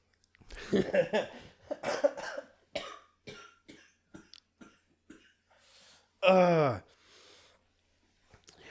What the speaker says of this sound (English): the cough was a coincidence